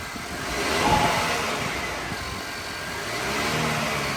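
The 2.0T engine of a 2019 Honda Accord with a manual gearbox and a loud aftermarket intake revs nearby, swelling and easing in two broad rises with a throaty rumble and intake whoosh.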